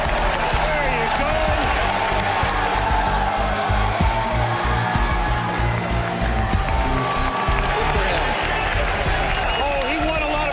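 Large stadium crowd roars and applauds continuously at the 2005 NFL Draft as the Green Bay Packers select quarterback Aaron Rodgers, a dense steady wall of cheering with talk mixed in underneath.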